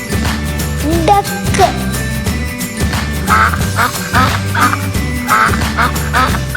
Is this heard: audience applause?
no